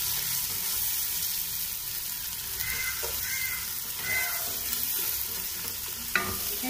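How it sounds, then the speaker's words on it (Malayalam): Ginger garlic paste for Kozhikode beef biryani being sautéed in hot oil, a continuous sizzle with occasional spoon scrapes and a sharp clink near the end. "ഇനി നമുക്ക് ഇഞ്ചി വെളുത്തുള്ളി പേസ്റ്റ് ഇട്ട് കൊടുക്കാം."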